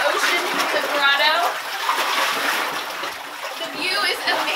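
Ocean water splashing and sloshing inside a seaside grotto, continuous close washing texture with voices talking over it.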